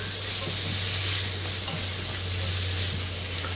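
Pork chops frying in a pan, a dense, steady sizzle with crackling spatter throughout, close and loud with a constant low hum beneath and no talking.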